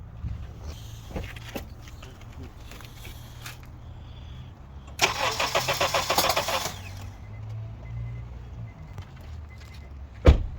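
A 2004–2006 Honda CR-V 2.4L engine cranks with a rapid rhythmic chugging for about two seconds, then stops without catching; quiet background and a sharp click at the end.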